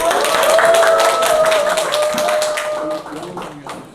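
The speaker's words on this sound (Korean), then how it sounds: "큰 박수로 환영해 주십시오" Audience applause welcoming a speaker at a business seminar, brisk clapping from a crowd under a sustained tonal sound, fading off after about three seconds.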